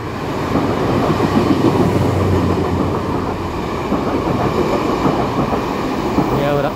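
A DR3100 diesel multiple unit Tze-Chiang express, nine cars long, passes on the North-link line bound for Hualien. Its loud, steady rumble and wheel noise fill the whole stretch, with a faint squeal near the end.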